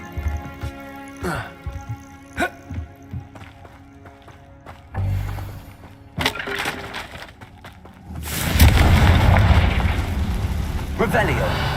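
A Confringo blast spell in Hogwarts Legacy goes off as a sudden, loud explosive burst that swells into a sustained crackling roar, following several sharp clicks and thuds of game action.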